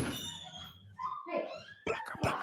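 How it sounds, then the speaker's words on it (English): A pet dog whimpers and then lets out short barks, fairly close and at moderate volume, with a brief pause before the sharper final yips, in a home where a podcast is being recorded. "She doesn't usually bark unless there's like something to bark at."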